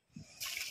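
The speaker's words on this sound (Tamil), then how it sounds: "தேவையான அளவு தண்ணீரை சேர்த்திக்கலாம்." Water poured into a biryani mixture of spices, lemon juice and yogurt, a brief close splash and trickle lasting under a second.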